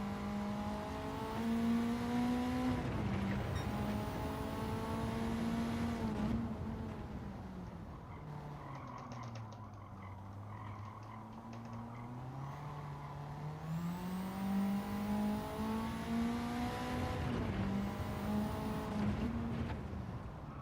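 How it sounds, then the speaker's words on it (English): A race car engine revs hard down a straight with the wheels spinning, a sustained droning note that sweeps down and climbs back up as speed changes, continuous and fairly close. "The car didn't actually stop wheel spinning all the way down that straight just then."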